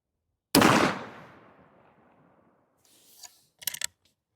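A single loud, close gunshot from a C Sharps Arms 1885 rifle fitted with a muzzle brake, cracking sharply and then ringing off in a long decaying tail, followed by a few quiet mechanical clicks of the action.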